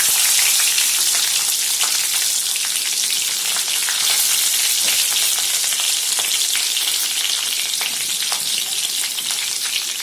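Mustard seeds and cumin crackle and sizzle in hot oil, a steady, close, loud hiss dotted with sharp little pops throughout, no voices.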